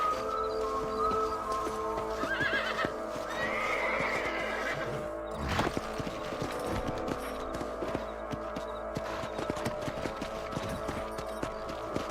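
Video game horses whinny and their hooves clip-clop over rough ground, with a sharp snort midway and scattered clatter, all without talk, in Red Dead Redemption.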